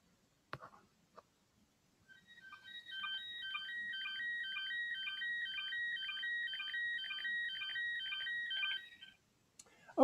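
A slow scan TV signal from an AMSAT CubeSatSim comes over a narrowband FM receiver as a steady, warbling series of stepping electronic tones lasting about seven seconds. A few sharp clicks come before it and after it, with no talking.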